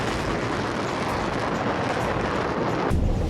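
Missile strike explosion from a 1000 kg warhead: a loud, dense, continuous roaring blast rumble filling the whole clip, with a heavier low surge toward the end.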